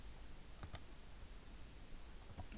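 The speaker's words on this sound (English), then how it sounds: "When I click outside, it takes Yeboah's away and then add another person" Faint, crisp computer mouse clicks during data entry: a quick double click early on and a single click near the end, over a quiet room hiss.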